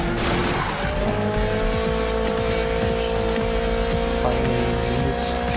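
Car engine drones steadily while tires squeal through a drift in the Need for Speed racing video game, the skid tone sustained and loud for several seconds with no talking.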